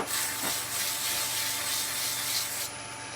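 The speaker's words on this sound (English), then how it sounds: "we're going to give that a little bit of the old airbrush treatment now" An airbrush sprays paint onto a small wood-turned Christmas tree, giving a continuous close, steady hiss that ends abruptly near the finish.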